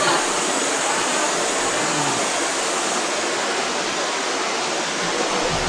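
Tungloy Falls pours in a dense, continuous broadband rush of falling water, loud and close, with no voices.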